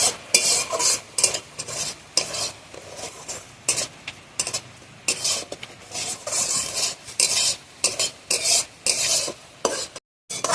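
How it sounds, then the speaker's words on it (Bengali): Semolina being fried in ghee in a wok, stirred with a metal spoon in quick bursts of scraping and rasping against the pan, over a low sizzle, with brief pauses between strokes. "যে ঘিটা কড়াই ছিল ওতেই আমি সুজিটা ভালোভাবে লাল লাল করে ভেজে নেবো।"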